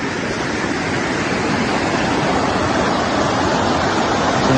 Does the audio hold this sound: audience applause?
no